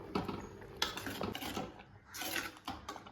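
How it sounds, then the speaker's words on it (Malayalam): Boiled potatoes being lightly mashed in a pan of potato curry gravy, with close, irregular scraping and soft knocks of a utensil against the pan over a few seconds. "ഉരുളക്കിഴങ്ങെല്ലാം പാകത്തിന് വെന്താണ് ഇരിക്കുന്നത് ചെറുതായിട്ടൊന്ന് ഉടച്ചു കൊടുക്കുക"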